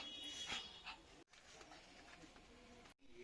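A village dog near a Sakleshpur temple gives a few faint, distant barks and pants over quiet outdoor ambience, with two brief drops to near silence.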